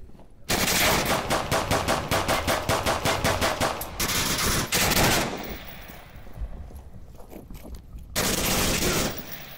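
Automatic rifle fire in the VR shooter Onward, loud rapid bursts filling most of the stretch with brief pauses between volleys.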